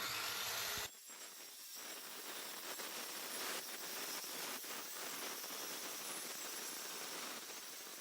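Wood pieces for a colonial-style bar cabinet being cut with a saw, a steady, dense rasping that starts abruptly after a brief pause and continues loudly and evenly throughout, with no talking.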